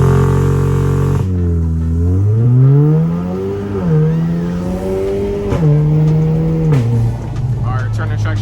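An Audi with a loud exhaust launches hard from launch control on a mountain touge road, engine roaring up through rising revs with quick gear changes, close and dominant throughout.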